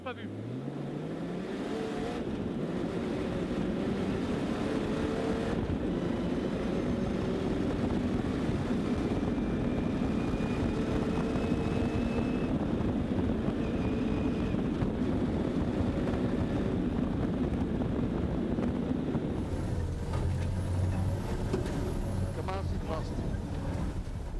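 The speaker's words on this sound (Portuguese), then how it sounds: "uma viagem a bordo de um carro de rally cross-country" Inside a cross-country rally car during the Transoriental rally, the engine drones loud and continuously, with road and wind rumble throughout and a shift in tone near the end. Voices talk over the noise.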